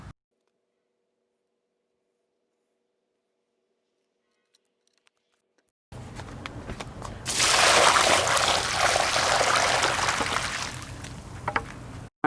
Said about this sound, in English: I'm going to take these out of here and dump the water out.